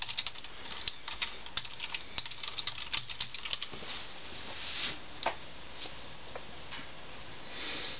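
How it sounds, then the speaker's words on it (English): Typing on a USB keyboard connected to an HP TouchPad tablet, brisk clusters of light plastic key clicks in uneven bursts, close and clear, with quieter pauses between runs and no talking. "you'll be able to use the USB keyboard to navigate the menus in the browser"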